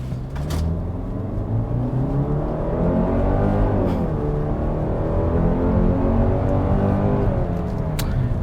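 A 2023 Kia Sportage SX-Prestige compact SUV engine pulls under acceleration, a steady close drone with rising harmonics and a brief dip and climb in pitch, loud and continuous with no talk.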